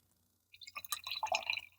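Russian imperial stout poured from a can into a glass: after a brief quiet moment, a close, bubbly gurgle of liquid splashing and filling, loud and continuous to the end.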